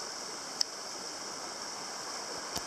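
Water trickles and burbles steadily close by, a soft continuous flow with a couple of faint clicks.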